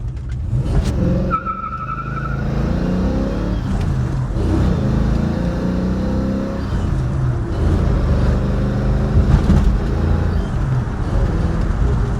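A 1968 Ford Mustang Fastback with the J-code engine accelerates on a road test drive, its engine note loud and steady throughout, with a brief squeal of the rear tires spinning early on.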